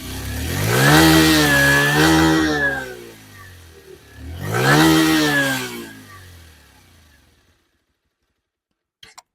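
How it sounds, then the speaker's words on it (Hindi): A Bajaj Pulsar 125cc motorcycle is revved twice while running, each burst rising to a loud, buzzy exhaust roar and falling back to idle, then the engine cuts off into silence. "इसके साथ चलिए एक बार इसका एग्ज़ॉस्ट आप सुन लीजिए।"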